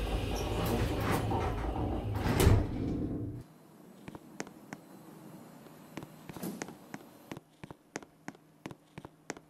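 Mini Roblox elevator doors sliding shut in a virtual Spawnville Park lift: a loud broadband rush that cuts off abruptly, then a sparse run of sharp clicks and ticks, fairly close, with no talking.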